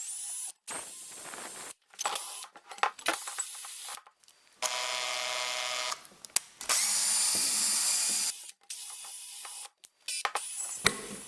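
A power drill fitted with a homemade wire end-brush scrubs into corners in bursts of loud whirring and scratching, broken by short pauses and clicks.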